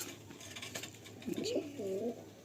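Pigeons in a loft give soft, low coos toward the end, faint against a light background hiss.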